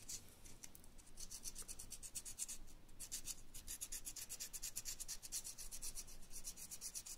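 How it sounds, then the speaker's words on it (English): The edge of an aluminium pipe for an exhaust tip is sanded with 400 grit sandpaper in quick, even back-and-forth strokes, a soft, hissy rubbing rasp heard close up and fairly faint, with no voices. "get like the 400 grit sandpaper, run the edge like this, sand down the edge"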